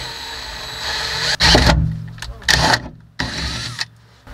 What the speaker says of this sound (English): So let's go ahead and do our pilot holes and see where they're at.